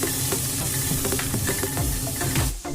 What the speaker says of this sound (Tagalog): Saka ko naman inilagay ang bawang. Hinalo-halo ko lang siya hanggang sa mag-light brown.